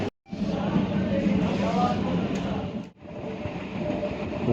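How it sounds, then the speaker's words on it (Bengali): A train rumbles along the tracks in a steady, loud roar heard from on board a train bound for Canning station in dense fog, briefly dipping twice, with faint voices in the background. "ঘন কুয়াশার মধ্য দিয়ে আমাদের ট্রেন ছুটে চলেছে ক্যানিং স্টেশনের উদ্দেশ্যে।"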